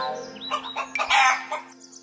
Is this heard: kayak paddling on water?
no